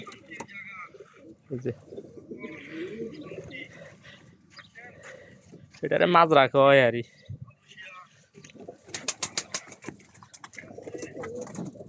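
Pigeons coo close by in coops in a soft, throaty burst, while someone talks before and after the calls.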